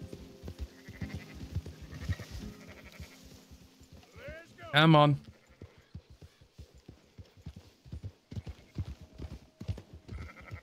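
Sheep bleating in the Red Dead Redemption 2 video game, one loud close bleat amid steady hoof clip-clop of a herd, with someone talking briefly.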